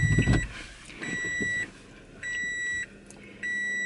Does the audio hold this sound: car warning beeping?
yes